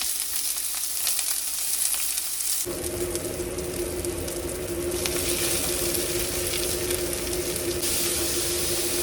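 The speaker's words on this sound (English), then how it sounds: "Fry it." Food sizzles and fries in hot oil on a portable electric hot plate inside a 2023 Flagstaff E-Pro 15TB camper, a steady close crackling hiss that jumps louder partway through as food hits the pan.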